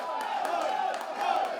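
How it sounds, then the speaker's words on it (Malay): Crowd of football supporters cheering for Pulapul Langkawi at a Kedah police chief's cup final match, a steady mass of voices with rising swells, heard at a distance. "Itu dia sorakan daripada penyokong pasukan Pulapul Langkawi"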